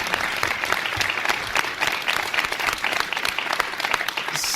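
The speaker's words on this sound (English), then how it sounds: "And how about a round of applause for our guest," An audience at a talk on race, class and inequality gives the guest a steady round of applause, a dense wash of many hands clapping continuously throughout.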